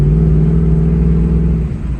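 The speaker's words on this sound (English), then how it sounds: "but when you listen to that supercharger" A centrifugal supercharger on a beat-up supercharged SUV engine whirs with a loud, steady tonal whine over the engine's deep rumble, holding its pitch before easing off slightly near the end.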